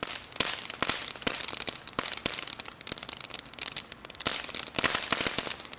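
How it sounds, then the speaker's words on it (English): A ground-level crackling fountain firework from a Tesco 2025 range, its dense popping crackle rattling continuously and loudly for the whole stretch with sharp snaps scattered throughout. "There's quite a lot of crackle on the ground there."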